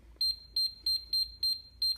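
An Orton AutoFire AF4X three-button controller on a Jen-Ken glass kiln gives six short, sharp, high electronic beeps at an even, quick rhythm, each clean and close with near silence between.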